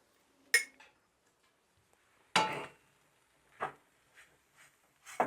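A utensil scrapes and clinks against a pan while sugar-sprinkled fried rice is mixed. Scattered, fairly faint metallic knocks and scrapes come with long quiet gaps between them.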